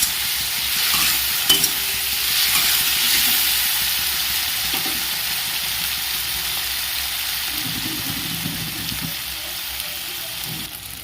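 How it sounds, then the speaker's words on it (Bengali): Chicken pasta with egg fries in a pan while being stirred, a constant close sizzle with scraping and stirring knocks coming at intervals. "একটু সময় ধীরে ধীরে কষাতে হবে।"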